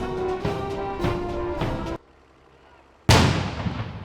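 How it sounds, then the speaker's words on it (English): Heavy cannon blasts from a 41-gun salute in Hyde Park boom out in a quick series of loud, echoing shots, then a brief hush before another powerful report rolls away. "41 guns were fired at Hyde Park, and there was also a gun salute at the Tower of London"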